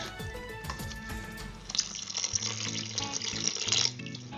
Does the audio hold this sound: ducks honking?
no